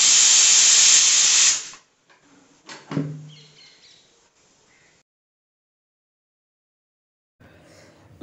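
A pressure cooker whistle lets out a loud, sharp hiss of escaping steam for a second or two and then cuts off, followed by a few soft clinks and near silence.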